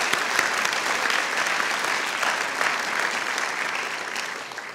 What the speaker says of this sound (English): Let's give a round of applause to our amazing MC this evening